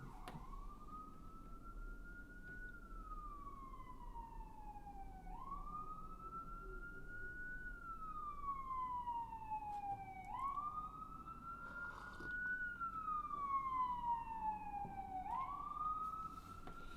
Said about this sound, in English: Let's listen to the sirens.